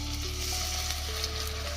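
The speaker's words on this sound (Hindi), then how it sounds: "हम इसमें ऐड करेंगे लहसुन अदरक का पेस्ट" Garlic ginger paste sizzles in a spoonful of hot oil, the start of a dhaba-style dal maash tadka. The frying hiss is quiet and steady, with faint tonal hum in the background and no voices.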